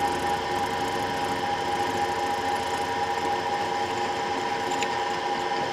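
A machine steadily cutting the throat bore of a KTM carburettor hums and whines continuously at an even level, a dense mechanical drone with no pauses or talk.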